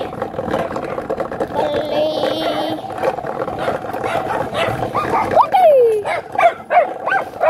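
Several dogs up in a tree bark and yelp at a distance, with rising, whining cries toward the end, over street noise and people talking nearby in an alleyway.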